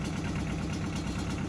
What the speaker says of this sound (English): Got the tractor warming up